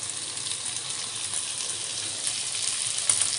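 Onion added to oil and butter with ginger-garlic paste, frying in a pan for Italian rice, making a soft continuous hiss and sizzle with faint stirring, no talk.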